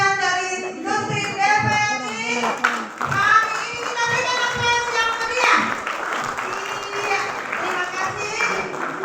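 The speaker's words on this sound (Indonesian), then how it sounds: "Kali ini kita berikan aplaus yang meriah." An audience at a TVRI internship seminar claps steadily throughout, under children's voices and chatter from the crowd.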